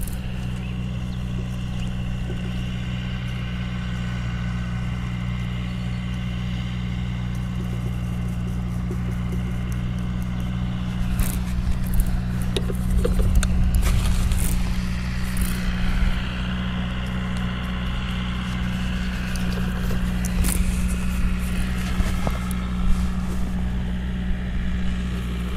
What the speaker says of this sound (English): Probably gonna hear a tractor here.